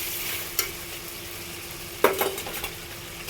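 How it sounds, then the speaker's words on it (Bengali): Chicken with bottle gourd and spices sizzles steadily in a pan while a spoon scrapes through it, once briefly and then in a longer flurry of close strokes, with no voices. "মশলাটা কষে নিয়ে পুরো মাংসটা ভালো করে কষবো"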